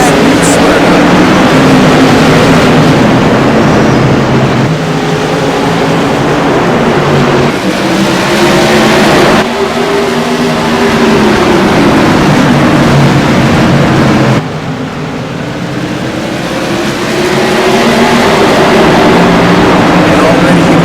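Modified race cars roar away at the green flag at New Smyrna Speedway, a loud, dense engine wall that surges and shifts in pitch as the pack accelerates, with an announcer talking over it throughout.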